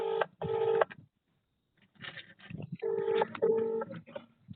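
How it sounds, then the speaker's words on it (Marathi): Ringback tone of an outgoing phone call, two repeated pairs of short electronic bursts separated by a pause, heard over a handset line with faint background noise. "हा रिंग चालू आहे"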